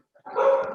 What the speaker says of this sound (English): وعندنا كلاب عمالة تنبح تحت